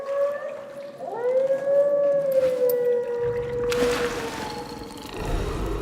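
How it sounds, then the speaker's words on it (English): A creature in the fantasy game Soulframe lets out a long, sustained, gliding howl with harmonic overtones, loud and close, then fades under rumbling ambience and a burst of noise. "This howl of hers is not a cry, but a warning."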